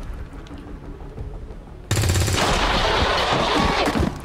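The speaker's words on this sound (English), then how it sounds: "Let's just fire at this guy." Gunfire from the video game XCOM 2 opens abruptly partway through, a loud, dense burst of rapid shots that follows a quieter stretch of background game ambience.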